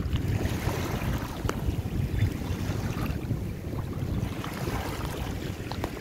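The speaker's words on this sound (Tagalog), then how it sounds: "ang sarap ng pakinggan, lagaslas ng ano, lagaslas ng tubig ng dagat" Sea water laps and washes along the shore of Manila Bay at low tide, a continuous rough churning wash mixed with wind buffeting the microphone, with no voices.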